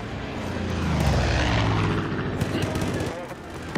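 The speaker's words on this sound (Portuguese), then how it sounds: "Ih, rapaz, avião." Propeller airplane passing overhead in the Far Cry video game, a loud broad engine drone that swells and fades over a few seconds amid other game noise, with someone talking in between.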